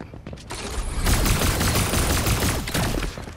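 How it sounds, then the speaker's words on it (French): Gunfire trades back and forth in a Fortnite battle, a dense fusillade of rapid shots that swells loud after a quieter opening and stays sharp and close, with a brief dip before another burst. "ça se tire dessus, ça se tire dessus"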